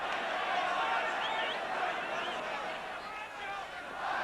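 Steady crowd noise fills a football stadium during a Soviet Union match, a broad continuous roar that rises and dips slightly, with commentary voices over it.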